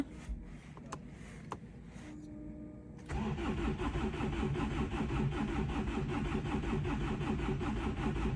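A Hyundai Sonata Embera that had broken down is cranked after a few clicks and pauses, then the engine catches at about three seconds and settles into a steady, close idle.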